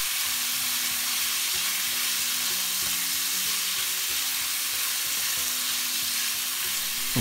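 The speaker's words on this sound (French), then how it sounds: "On remélange le tout." Shiitake slices marinated in rice wine are stir-fried with pork belly in a hot pan, a steady close sizzle broken by the scrape and clatter of stirring throughout, with no talking.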